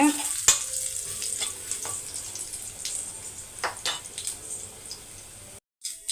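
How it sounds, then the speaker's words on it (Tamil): Steady sizzling and crackling of food frying in a pan, with occasional stirring scrapes, fairly close, before a brief cut near the end. "இப்போ நல்லா ஃப்ரை ஆகிடுச்சு ஸ்டவ் ஆஃப் பண்ணிவிடுங்க"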